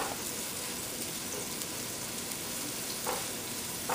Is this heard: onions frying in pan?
yes